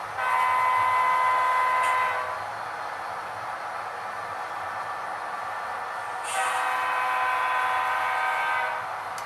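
Model CSX train running on track: a moderately loud, steady rolling hum with two sustained horn-like tones near the start and end, no talk.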